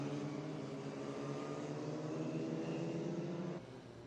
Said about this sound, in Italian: sentire anche il sound del motore della Reggiani alle sue spalle per aiutarsi, proprio come succede nei kart.